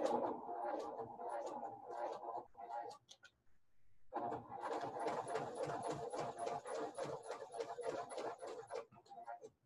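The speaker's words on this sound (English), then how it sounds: "I'm going to do a stage stitch and normal stitching." Sewing machine stitching pleated fabric for a face mask, running in a rapid rhythmic burst of needle strokes after a short pause, with voices talking and fainter machine runs earlier.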